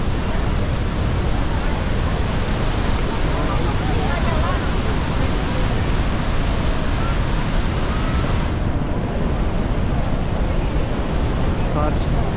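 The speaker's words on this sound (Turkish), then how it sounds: "Böyle çeşit çeşit yüzlerce şelale var burada." Iguazu Falls in Argentina roar as a steady, loud wash of falling water, a dense unbroken rush that fills the whole scene from start to finish.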